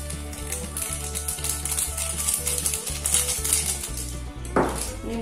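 A grated coconut mixture with salt and vanilla is stirred in a basin for Javanese awuk-awuk cake, giving a continuous scraping, rustling texture with occasional light clinks, over soft background music.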